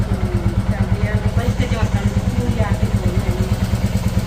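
A motorcycle idles close by with an even, fast thumping pulse throughout, while a voice talks over it.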